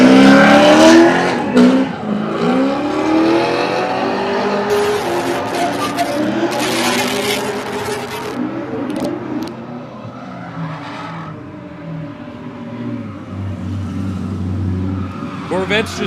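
A black Chevrolet Corvette C6 drifts at Lead Foot City, its engine revving hard and its tires squealing and skidding loud and close. Voices and crowd noise carry over it throughout.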